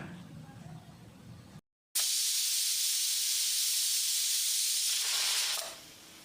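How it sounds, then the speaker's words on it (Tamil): Pressure cooker releasing steam while cooking tomato rice, a loud sustained hiss that bursts in after a brief gap and holds steady for several seconds before trailing off, close by and alone. "மூணு விசில் வந்து ப்ரெஷர் அடங்கிருச்சு."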